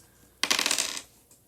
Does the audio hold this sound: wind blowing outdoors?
no